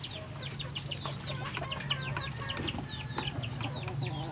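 Many chickens cluck and chirp continuously over a low steady hum, busy farmyard chatter at close range.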